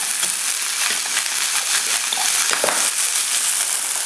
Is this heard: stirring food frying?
yes